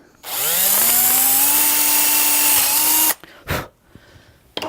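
An electric drill bores an offset hole into wood, its motor spinning up with a rising whine and holding loud and close for about three seconds, then stopping, followed by a few short rubbing and knocking handling sounds.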